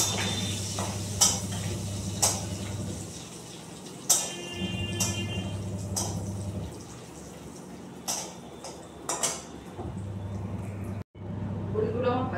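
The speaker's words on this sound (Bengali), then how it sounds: "এই বেগুন আর বড়িটাকে ভেজে উঠিয়ে রাখলাম" Bori lentil dumplings and eggplant fry in a pan, with a soft sizzle under repeated sharp clinks and scrapes of a stirring utensil and a low steady hum.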